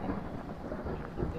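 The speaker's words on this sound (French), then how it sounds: "il y a un sacré orage" A thunderstorm in the ghost-hunting game Phasmophobia: a deep, rolling thunder rumble with a rain hiss, steady and fairly loud throughout, with a stronger swell near the end and no talking.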